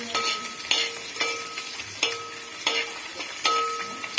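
Ginger and garlic frying with browned coconut pieces in coconut oil for beef perelan, a close, bright sizzle with spatula scrapes at roughly regular intervals, no voices.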